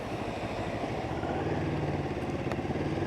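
A Moto Morini X-Cape 650 motorcycle engine runs with a steady low throbbing pulse, heard close and continuous at moderate loudness without talk.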